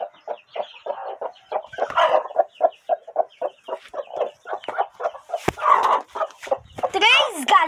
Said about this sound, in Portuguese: Três galinhas choques.